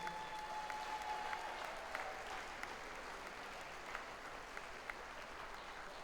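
Darts crowd applauds steadily after the youth final of the 46th British Open at a Tri-Nations event, a faint, distant wash of clapping that holds evenly throughout.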